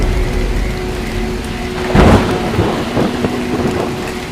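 A thunderstorm with steady rain hisses throughout, and a loud thunderclap cracks near the middle and then rumbles away in lower rolls.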